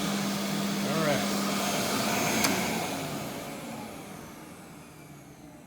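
A Rainbow D4c SE PE canister vacuum cleaner runs with a loud, steady whooshing roar close by, slowly winding down and fading over the final seconds.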